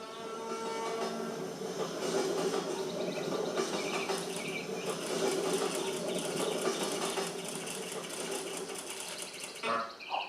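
A passenger train rushes past in a video game, a dense continuous rumble and clatter that holds steady for about ten seconds before a sharp clank near the end, with no talking.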